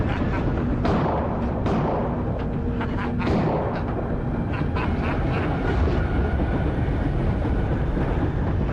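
A moving train produces a loud, dense rumble that roars continuously, with heavy thuds and clanks near the start rising above the steady roll of the wheels.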